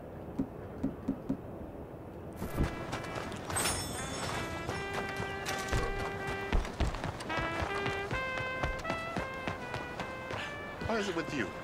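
Rapid hoofbeats of a galloping horse in Red Dead Redemption 2 clatter beneath game music and scattered voices, the rhythm quick and steady.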